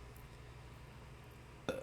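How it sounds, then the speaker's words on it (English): A single short burp erupts near the end, loud and close against a steady low background hum, after a long stretch of quiet. "I got burp."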